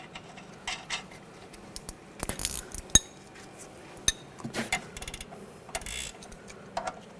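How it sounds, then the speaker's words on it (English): A ratchet tightens the nut on a front sway bar link of a 2011–2018 Volkswagen Jetta, giving soft, close clicking bursts and metallic taps at irregular intervals against quiet garage background, with no talk. "Hold the stud from spinning, and I'll tighten this down."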